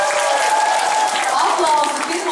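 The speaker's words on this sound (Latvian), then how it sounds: "Aplausi grupā, ok?" A school Christmas concert audience applauds a performing group, producing broad, sustained clapping from a crowd that stays even and full throughout, with a voice faintly audible under the noise.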